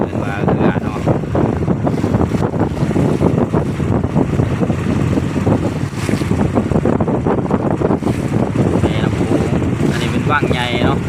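Rumbling boat engine on the Mekong River with heavy wind buffeting the microphone and water splashing, steady throughout, with faint voices mixed in.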